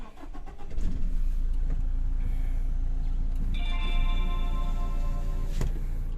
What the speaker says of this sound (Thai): กดหนึ่งครั้งสตาร์ทครับ